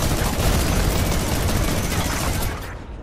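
An automatic turret fires nonstop in Fortnite Bedwars, a loud and steady rattle of close gunfire that cuts off sharply near the end.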